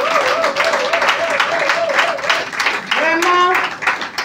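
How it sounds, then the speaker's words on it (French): Applause from an audience at a Women's Day event in Abidjan's Plateau district, steady clapping that runs the whole moment under a voice speaking over it. "Et je voulais qu'on l'applaudisse."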